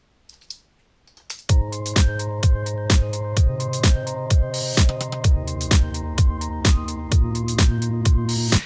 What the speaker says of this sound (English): So what we've done here is put together just a simple little beat and one little synth.